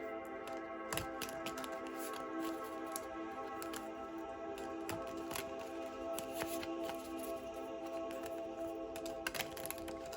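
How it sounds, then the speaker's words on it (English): Cards are shuffled continuously, a dense papery riffling and clicking that runs throughout at close range with no talking. "Okay, that feels like a good shuffle."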